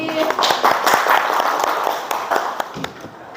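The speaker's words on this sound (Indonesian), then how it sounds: "Tepuk tangan untuk Alif" Classroom of students clapping for a classmate, a short burst of scattered, uneven hand claps from a small group that holds steady for a few seconds, fairly close.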